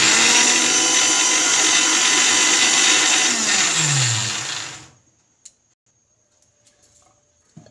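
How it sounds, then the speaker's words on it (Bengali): A mixer grinder blends tomato and coriander chutney with a loud, steady whirring roar that dips in pitch near the end, then cuts off into near silence broken by a few faint knocks. "আমি এটা বেটে নেব।"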